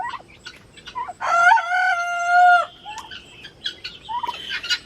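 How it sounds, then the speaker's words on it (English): An olive egger rooster crows loudly nearby, one long drawn-out cock-a-doodle-doo, with other chickens clucking and calling before and after. "that's an olive egger rooster you hear crowing"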